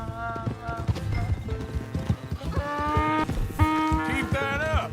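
Horse hooves clip-clop at a steady walking pace in the Red Dead Redemption 2 video game, mixed with musical tones and brief animal calls.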